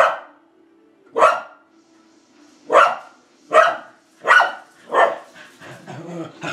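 Pet dogs barking indoors, six loud, separate barks spaced about a second apart, ending in softer whimpering yips.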